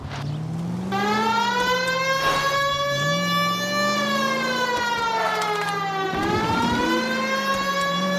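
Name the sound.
police car siren in a video game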